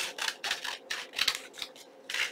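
Scissors trim a folded paper booklet in a series of six or seven close, crisp snips, each a short rasping cut separated by brief pauses, with no talking.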